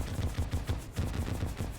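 The Celebration MK2 launcher in Terraria fires in rapid, rhythmic bursts, a steady stream of thumping, explosive shots repeating about every quarter second, loud and continuous with no talk.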